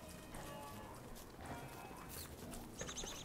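Horse-like creature sounds from the Don't Starve video game, with soft clip-clop footfalls and a brief higher whinny-like cry near the end, under a steady bed of game ambience.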